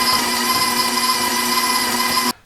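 The electric mixer called Big Red whirs at a steady, loud, close pitch while beating softened butter, running evenly for about two seconds before cutting off abruptly, with no voices.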